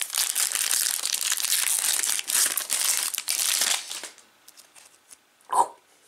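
Foil of a Pokémon XY Evolutions Blastoise booster pack crinkles and tears close up for about four seconds of busy rustling, then falls quiet apart from a few small clicks and one last crisp rip.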